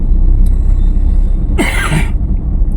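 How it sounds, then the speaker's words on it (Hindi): A single harsh cough stands out close by over a low, continuous rumble of background noise. "खांसी आ रहा है यार।"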